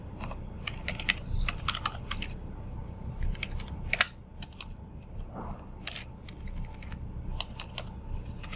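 Typing on a computer keyboard while coding a Laravel admin page: quick irregular clusters of close, crisp key clicks with brief pauses, fairly quiet, no talk.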